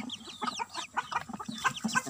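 Chickens cluck in a steady, busy run of short calls, close and fairly loud, with no talking over them.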